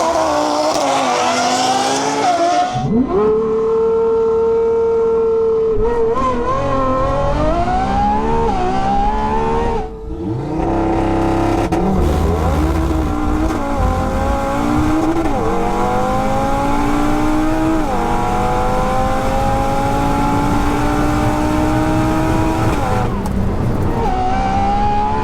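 A tuned Audi TTRS and a 1001 bhp Lamborghini Revuelto launch side by side in a drag race, engines roaring loud and close, rising through repeated gear-change sweeps with a brief dip before pulling hard again, without any talk.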